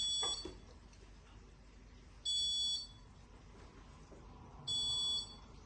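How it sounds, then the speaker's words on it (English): A green wall unit beeps three times as it fills up, giving shrill, steady electronic tones of about half a second each, spaced roughly two and a half seconds apart over a low background hum. "As you come towards the end of filling your unit, you will hear 3 continuous beeps."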